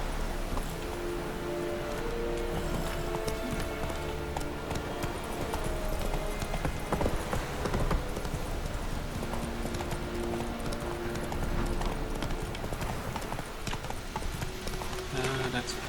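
Roach the horse galloping in The Witcher 3, steady clip-clop hoofbeats mixed with rain and game ambience, someone talking over the hooves.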